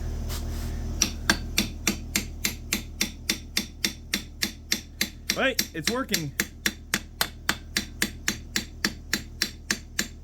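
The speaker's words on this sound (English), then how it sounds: "A little ball peen hammer." A small ball peen hammer strikes metal while working on an electric-start McCulloch 5-10E chainsaw, giving a long run of sharp, evenly spaced taps. One short remark is spoken partway through.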